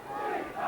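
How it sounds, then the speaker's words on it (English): Football crowd roaring and cheering after Lincoln's equaliser, a brief, broad swell of massed voices heard from a distance. "and they're cheering them again"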